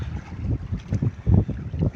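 Strong wind buffets the microphone in low, rumbling gusts, with a steady roar that swells and fades over a couple of seconds outdoors on the water while fishing.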